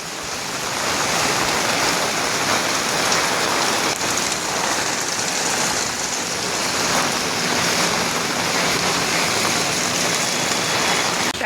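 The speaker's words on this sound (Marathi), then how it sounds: "खूप जोरात पाऊस येतोय." Heavy rain falls in a dense, unbroken roar that stays loud and even throughout, with no voices over the downpour.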